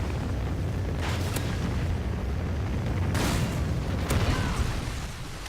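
Trinity rocket strikes in Call of Duty: Ghosts on the Favela map, a sustained roaring wash of explosions with a few sharp louder booms, dense and continuous throughout.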